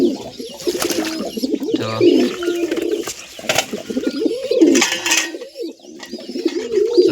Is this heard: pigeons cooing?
yes